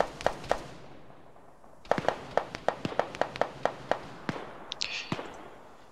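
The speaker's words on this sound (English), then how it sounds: "So they do respond to gunfire." Gunshots ring out in Arma 3, a few sharp reports at first, then a faster run of single cracks after a pause, spaced unevenly and fairly close, with no talk over them.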